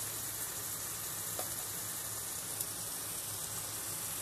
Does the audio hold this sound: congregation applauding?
no